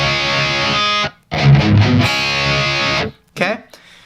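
Distorted electric guitar plays on the two top strings, skipping the fourth, in a riff: two loud sustained passages separated by a brief break, then a short final stab.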